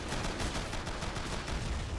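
Gunfire and mortar fire rage across a Men of War Assault Squad 2 battlefield during a siege of a Manchurian city: dense, continuous crackling shots and rumbling blasts at steady loudness throughout.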